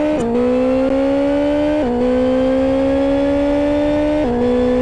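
A Mini racing car on the Kent AutoPrix circuit, its engine droning loud and close as it downshifts into second gear. The tone drops sharply at each shift and then climbs slowly back up.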